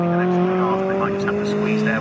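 Racing cars at Snetterton circuit, one running an A-Series engine, give a steady loud engine drone with sustained tonal whine, while a commentator talks over it.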